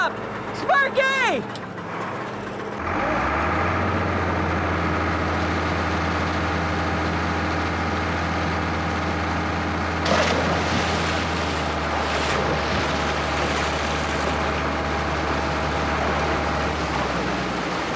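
A small gasoline water pump engine starts up and runs loud and steady at high revs for the rest of the time, with brief surges, close by outdoors and with no talk over it.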